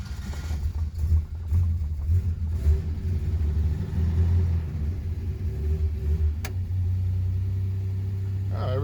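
A Slant Six engine fitted with an Edelbrock carburetor runs with a steady, loud low rumble close by, settling into an even idle.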